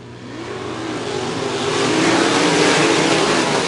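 Sprint race cars roar off at the green flag start of a qualifying heat, engines revving and building steadily louder as they accelerate toward the first corner.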